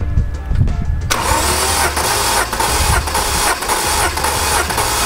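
A BMW E60's M54B30 inline-six cranks on the starter with all spark plugs removed for a compression test, a loud, steady whirring churn with rhythmic pulses that kicks in after a second and runs continuously.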